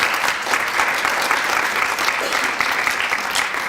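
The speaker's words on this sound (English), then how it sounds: "Please give her another round of applause" Dense, loud audience applause at a women's month celebration event, continuous even clapping from a large crowd throughout.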